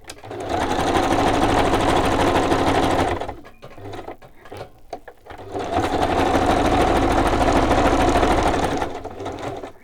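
A sewing machine runs a straight stitch through fabric in two long, steady bursts of loud, even mechanical whirring, separated by a brief pause filled with softer handling clicks and rustles.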